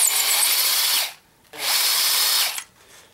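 A power case trimmer cuts 38 Special brass cases in two loud whirring bursts of about a second each, separated by a short quiet gap, with no talking.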